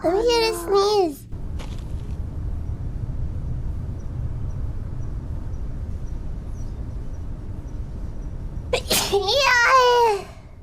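A sneeze from a VTuber character, a short sharp burst near the start, followed by a long quiet stretch and then high-pitched excited vocalizing at the end.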